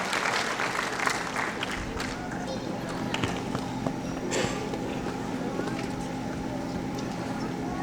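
An audience at a tribute event in Ahmedabad claps for Brigadier V Radhakrishnan, a steady, fairly soft wash of applause that continues for several seconds, with a voice speaking over it.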